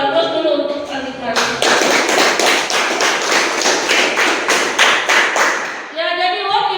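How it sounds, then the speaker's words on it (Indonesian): In a classroom, students clap for a classmate in a dense burst of applause lasting several seconds, framed by a teacher's voice speaking just before and after. "Aplaus dulu untuk Andika."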